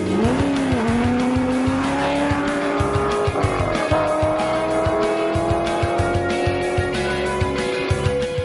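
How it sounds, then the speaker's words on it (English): A hot-rodded car launches hard from a standing start on a half-mile run, its engine roaring loud and close with tires squealing, the pitch climbing through gear changes in a sustained continuous blast, no talk. "this is a half-mile blast from a standing start to see just how fast you can go"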